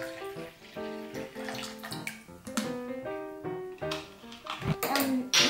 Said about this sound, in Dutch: Gaan eerst water in doen.